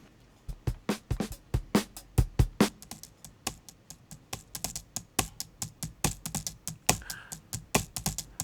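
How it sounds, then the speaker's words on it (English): Computer keyboard keys clatter in a steady run of close, crisp clicks and taps, an uneven typing rhythm with no voices. "here it is. Computer keyboard."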